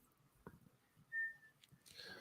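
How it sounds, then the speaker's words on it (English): A referee's halftime whistle sounds once in a football match between Leicester and Chelsea, a single faint, thin, steady tone lasting about half a second behind quiet background sounds. "Blow the whistle on this half,"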